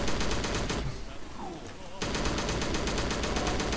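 Heavy, rapid gunfire from a war video game, loud and continuous bursts of large-calibre rounds that break off briefly in the middle before resuming at full intensity.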